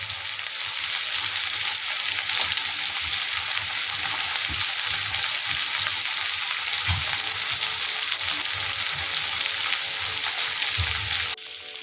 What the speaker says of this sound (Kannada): ಎಲ್ಲಾನೇ ಲೋ ಫ್ಲೇಮಲ್ಲಿ ಇಟ್ಟ ಕಾರಣ ಒಂದು 5 to 7 ಮಿನಿಟ್ಸ್ ಬೇಕಿದೆ. ಫ್ರೈ ಆಗಲಿಕ್ಕೆ.